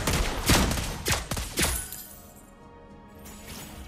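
Loud gunshots fired in a video game, a quick burst of several sharp cracks in the first two seconds, followed by a fading tail and quieter game ambience.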